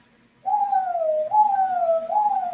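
Voices imitate owl hoots during a children's story-time yoga session: after a brief silence come two long, wavering 'woo' hoots, each sliding gently downward, clear and close.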